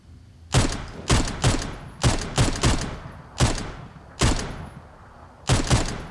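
Sniper rifle fire in the Knives Out battle royale game: a run of about eight sharp, loud shots in irregular bursts, each with a short decaying tail, no talking.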